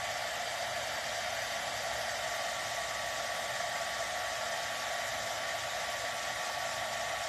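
A hair dryer blows continuously and loudly to dry paint on a wooden door hanger, giving a steady, unbroken whoosh close to the microphone with no speech.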